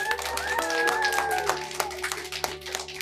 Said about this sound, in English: kids, for a big round of applause?